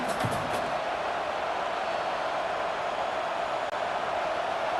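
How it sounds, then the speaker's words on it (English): A large stadium crowd at a college football game, Western Michigan at Wisconsin, roars as a steady, dense wash of noise that holds loud and constant throughout, with no distinct voices standing out. "This crowd going to try to make life miserable for these guys."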